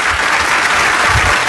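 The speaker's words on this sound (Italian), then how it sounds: "Un bel applauso per voi stessi." An audience applauds at a live music festival, a dense, even roar of many hands clapping together that holds steady and loud throughout.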